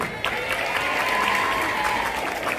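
An audience at a school skills exhibition and harvest festival applauds steadily, with dense continuous clapping and some crowd noise throughout.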